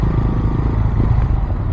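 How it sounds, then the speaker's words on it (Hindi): A motorbike idling as it is parked near a beach and temple in Devgad, Maharashtra, with a steady, loud, close engine rumble running throughout without a break. "अभी बाइक पार्क करता हूँ और जाऊंगा ऊपर।"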